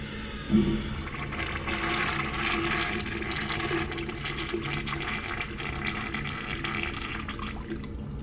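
A Zurn Small Pint washdown urinal flushes with a sudden gush of water, settling into a steady close rush of rinse water that continues throughout.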